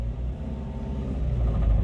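Rough engine rumble of a Toyota Avanza as it starts to drive, a steady low droning growl heard close and alone, gradually growing slightly louder.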